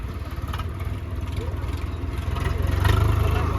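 A Swaraj 855 tractor engine runs close by with a steady low diesel throb that rises slightly toward the end, while a person speaks over it.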